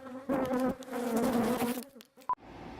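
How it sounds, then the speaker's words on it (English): Bees buzz loudly and close around a hive being removed from inside a wall, a dense droning hum that swells and fades as insects pass by, followed by a short tone and a quieter stretch. "So we're gonna continue pulling this hive out."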